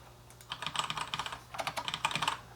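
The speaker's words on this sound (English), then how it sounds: "so if I type in hello world" Two quick bursts of keystrokes on a computer keyboard, close and crisp, separated by a short pause, with no voices.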